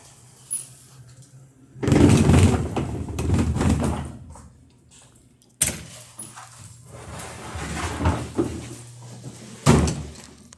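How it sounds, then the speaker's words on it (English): A door at a workplace is shut and locked: two bursts of clattering door and key handling are separated by quiet stretches, with a sharp closing thud partway through and a low steady hum in the background. "I have to make sure that door is locked."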